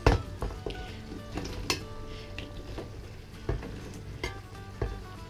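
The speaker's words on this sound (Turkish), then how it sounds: "Şöyle kremasıyla güzelce karıştırdıktan sonra altını kapatalım." Spoon stirring drained cooked pasta into a creamy chicken and mushroom sauce in a pan, with soft wet squelching, gentle sizzle and occasional metallic clinks of the spoon against the pan, close up and without talking.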